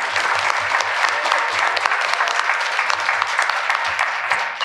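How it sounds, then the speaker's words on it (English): Sustained applause rises from an audience honoring volunteer coaches and students at a competition, thick and continuous with sharper individual claps standing out near the front. "let's give our coaches and our students a big round of applause"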